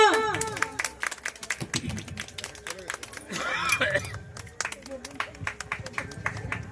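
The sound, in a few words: audience clapping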